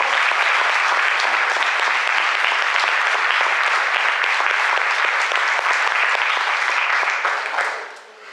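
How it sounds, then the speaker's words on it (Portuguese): A large church congregation at a Mass claps steadily and loudly for several seconds after the Gospel reading before the applause quickly dies away. "Vamos aplaudir o Evangelho do Senhor"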